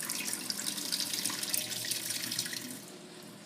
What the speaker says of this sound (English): since it's frozen, you rinse it out a little